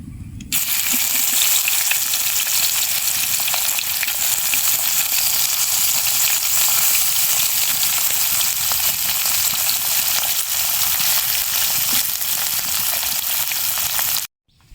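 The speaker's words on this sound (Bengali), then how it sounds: "তেলটা খুব ভালোভাবে গরম হয়ে গেছে মাছগুলো দিয়ে দেব" Mourala fish fry in well-heated oil, a loud, close, unbroken sizzle that runs steadily for about fourteen seconds and then cuts off abruptly, with no voices.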